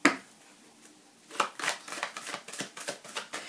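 Oracle cards being shuffled by hand: a quick single riffle, then a rapid run of crisp papery flutters and snaps close up, with a short quiet gap before the shuffling starts.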